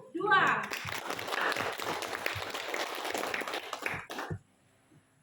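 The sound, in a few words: classroom applause for group 2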